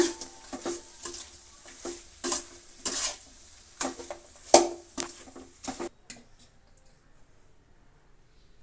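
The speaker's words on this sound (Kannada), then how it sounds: "ಗೋಬಿ ಫ್ರೈ ಮಾಡಿರೋದೆಲ್ಲ ಹಾಕಿ ಮಿಕ್ಸ್ ಮಾಡೋಣ" Fried gobi (cauliflower) stirred in a pan for gobi manchurian rice, with a run of close scraping, clattering spoon strokes and a soft sizzle over the first six seconds, then near silence with faint sizzling.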